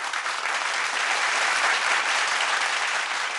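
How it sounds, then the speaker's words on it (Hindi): A studio audience claps steadily for a woman singer on a televised singing contest, a dense, even wash of applause holding at full strength for the whole stretch with no talk over it. "ताली बजाओ भैया इसके लिए"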